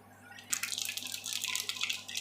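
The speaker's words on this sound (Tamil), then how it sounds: "எண்ணெய் சூடானோடனே கடுகு சேர்த்திக்கலாம். கடுகு நல்லா பொரியட்டும்." Mustard seeds crackle and spit in hot oil in a pan, a dense, close sizzle that starts suddenly and keeps popping in quick, irregular bursts with no voices.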